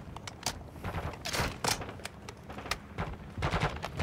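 Rapid bursts of gunfire in the video game Call of Duty DMZ, repeated sharp volleys spread across the moment at close range and loud, with no talking.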